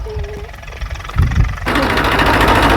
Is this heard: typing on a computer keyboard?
no